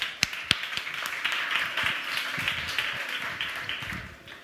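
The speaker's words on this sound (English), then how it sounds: "Round of applause." An audience at a startup competition final applauds to welcome the founder of a food company, with a few sharp nearby claps over a faint, thin spread of clapping that fades gradually.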